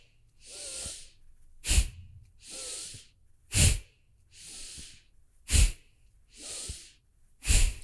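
Slow, rhythmic breathing during a pranayama exercise: soft, drawn-out inhales alternate with sharp, forceful exhales through the nose, close and clear, about four cycles with nothing else around them.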